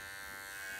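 Electric clippers trim the hair under a cocker spaniel's ear, giving a steady close-up buzzing whine that holds even throughout, with no voices.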